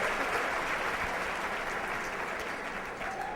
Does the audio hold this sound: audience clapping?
yes